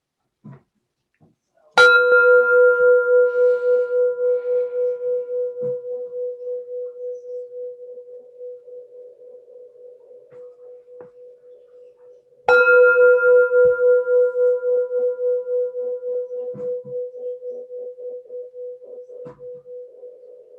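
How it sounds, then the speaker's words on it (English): A Tibetan bell struck twice during a quiet gathering, each strike a bright clear ring with a steady sustained tone that slowly decays and pulses as it fades, the second strike landing about ten seconds after the first. "God bless the Tibetans for making such wonderful bells."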